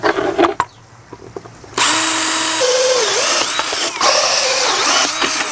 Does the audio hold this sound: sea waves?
no